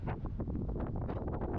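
Wind buffeting the microphone during a paragliding flight in gusty conditions near a ridge, a loud, steady low roar with rapid rustling pulses and no speech.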